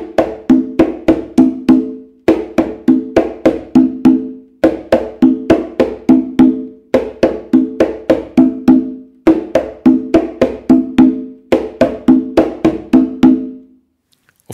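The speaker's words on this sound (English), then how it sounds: "After this open tone, a slap with your left hand and a slap with your right hand." Puerto Rican bomba hand-drum rhythm played alone, with booming open tones and crisp left- and right-hand slaps in a steady repeating cycle of six phrases, each ending in a short pause, close and loud.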